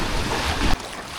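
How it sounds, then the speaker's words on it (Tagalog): Strong waves surge and wash against the rocky shore of a small island beside a small boat, with wind buffeting the microphone in a loud continuous rush that drops off abruptly near the end. "talagang malakas yung alon at nahihirapan tayong tumabi para makatungtong sa kabatuhan"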